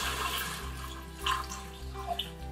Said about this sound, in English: I'm going to deglaze the onions with some water.